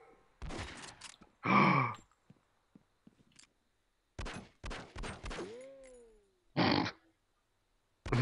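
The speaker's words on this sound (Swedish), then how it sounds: "Skjut på den där dunken." Gunshots fired at a barrel in the video game SWAT 4 come as sharp, loud bursts separated by silences, with several distinct reports and a ringing, descending tone after one of them.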